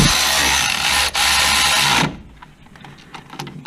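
Power tool tightening bolts on a Chevy Trailblazer front wheel bearing: a loud, close continuous whir for about two seconds with a brief dip, then stopping into faint clicks and handling noise.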